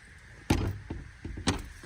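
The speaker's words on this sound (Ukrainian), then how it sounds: "Давайте спробую відчинити двері." A locked door on an old building in a park village is tugged and rattled, giving two sharp loud jolts about a second apart with lighter clattering knocks between, close by and with no talking.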